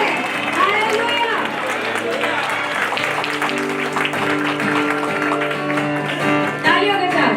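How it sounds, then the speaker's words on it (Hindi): A church congregation claps along loudly and steadily at a worship service, the dense clapping blending with music and sung or spoken voices throughout. "तालियों के साथ"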